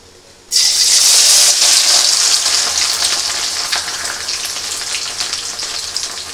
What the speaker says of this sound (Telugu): ఆయిల్ వేడెక్కింది, కాకరకాయలు వేసుకున్నాం.